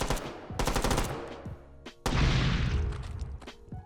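A shotgun fires in the VR version of Team Fortress 2: punchy, loud blasts, with one early shot and a pair close together midway, over busy tonal game sounds.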